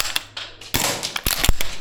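A VFC URGI V3 gas blowback airsoft rifle fires a handful of sharp, snappy shots with metallic bolt clacks, irregularly spaced and close, with no talking.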